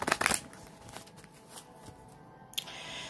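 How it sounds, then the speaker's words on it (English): Oracle cards are shuffled by hand at close range, giving a couple of quick, soft riffling bursts separated by quiet handling noise. "I'm just trying to shuffle the cards here so we can mix them up."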